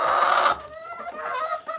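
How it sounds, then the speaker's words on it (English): Chickens clucking at a backyard coop, close to the microphone, with a dense burst of squawking cackles followed by softer, broken clucks, and no talk. "what the heck was that with the chicken?"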